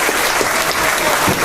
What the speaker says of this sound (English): let's give a hand of applause to these great volunteers that we have